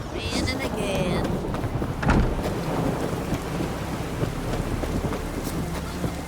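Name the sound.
rain and thunder in The Witcher 3 video game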